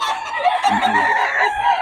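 A rooster crows loudly and close by, one drawn-out call lasting a couple of seconds.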